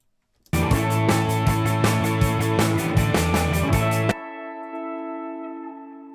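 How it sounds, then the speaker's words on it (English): Chords run through a spring reverb send in a Pro Tools mix, heard as a steady pulsing, slightly distorted harmonic pad. It stops abruptly, and a long metallic ringing tail lingers alone afterward. "I sent this to Bus 2122, which, if I remember correctly, is a spring reverb"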